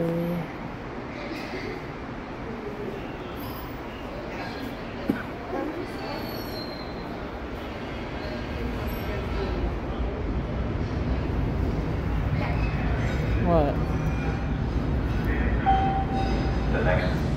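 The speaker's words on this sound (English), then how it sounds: "Subway." Subway train running in Boston, a steady rumble of wheels and carriage noise that builds louder over the second half, with faint squeals and people talking over it.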